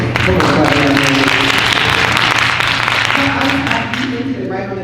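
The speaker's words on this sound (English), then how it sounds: "Come on, clap your hands." An audience at a women's church gathering in Los Angeles claps together, a continuous wash of applause with voices audible over it, easing slightly toward the end.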